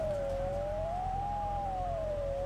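A siren in the video game The Long Drive wails in a slow rising and falling tone, steady and clear over a low, constant engine rumble.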